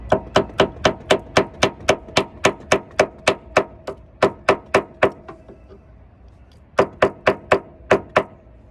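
An awl is tapped repeatedly into a car body panel during paintless dent repair, giving a fast, steady series of sharp, close, loud knocks. A short pause is followed by a few more strikes.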